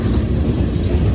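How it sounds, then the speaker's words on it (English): A long, slow train passes close by at a railroad crossing on Bayview Road in Blasdell, NY on a rainy morning, making a loud, dense rumble of wagons with rhythmic clickety-clack. "This is a long train."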